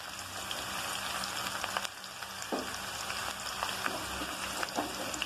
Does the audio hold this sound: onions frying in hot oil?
yes